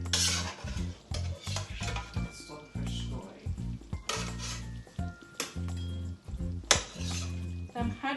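Chicken and turkey pieces being added to a stew pot on the stove, with repeated clinks of a utensil on the pot, stirring and scraping, and a faint sizzle, in bursts with short pauses.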